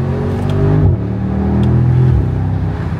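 Mercedes SL63 AMG with stock exhaust and nine-speed gearbox revving loudly from inside the car, with rising engine tone, a quick shift dip near one second and another near two seconds, steady throughout.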